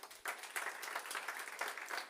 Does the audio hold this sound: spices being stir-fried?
no